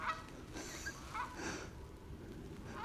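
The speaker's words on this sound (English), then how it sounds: "A gaggle of geese." A gaggle of geese honks in scattered, fairly distant calls on a windy mountainside, a few separate honks spread across the moment with no talking.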